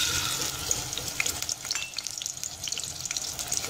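Onions frying in hot cooking oil over a medium flame for a white chicken korma, a dense, close crackling sizzle with quick popping spatters throughout, no talking.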